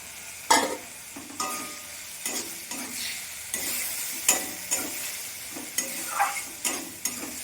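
Chopped tomatoes frying and being stirred in a pan for a Bengali fish curry, with steady sizzling and repeated scraping stir strokes at a close, moderate level, no voices.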